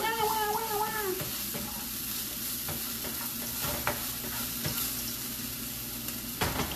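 Onion, garlic and ginger sauté in a hot pan with a steady, fairly loud sizzle and occasional scrapes of a stirring utensil, while a voice speaks briefly at the start.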